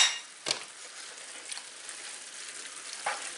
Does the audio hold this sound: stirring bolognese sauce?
yes